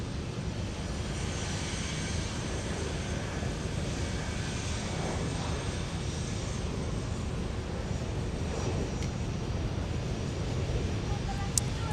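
A former Northwest airliner taxis toward runway 17 at Minneapolis–St. Paul for a flight to LAX, its engines making a steady broadband roar that holds level at a distance throughout.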